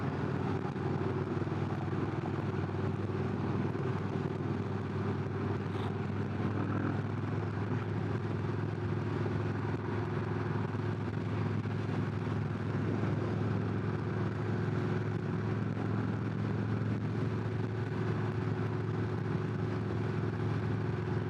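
A Victory V92C motorcycle on the road gives a steady, fairly faint engine drone with a low throb and wind noise, continuous and even throughout, with no voices.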